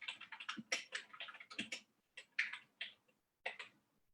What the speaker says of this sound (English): So if I just start typing in something,